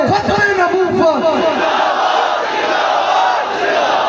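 A large religious gathering chanting a slogan in unison, loud massed voices rising in rhythmic calls at first and then fading into a sustained, blurred roar of the crowd.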